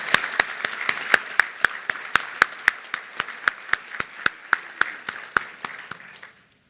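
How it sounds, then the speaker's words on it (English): Applause at a nursing college graduation rings out as about twenty sharp, evenly spaced claps, close and clear, trailing off at the end. "Can we have another round of applause for Sister Judith Ann?"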